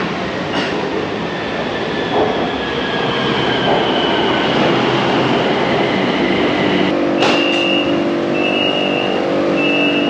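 A Bangkok Skytrain rumbles steadily into a station with a broad roaring hiss, joined by high metallic wheel squeals and tones near the end.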